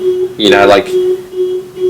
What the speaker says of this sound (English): Is that a car alarm or what the hell was that?